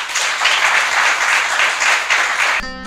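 Audience applause for a panel at a talk on media and storytelling, dense steady clapping filling the room for nearly three seconds before cutting off abruptly.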